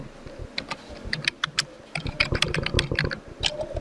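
Rapid clicking keystrokes on a computer keyboard, irregular bursts of tapping up close, pausing briefly before resuming faster.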